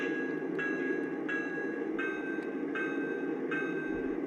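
Bell setting five on a Lionel ES44 NKP 8100 model diesel locomotive, striking steadily roughly every 0.75 seconds with a ringing metallic tone over a constant low hum, close by and alone.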